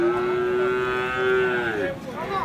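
A young Limousin bull calf gives one long, loud, close moo with a falling end. No other sound competes with it.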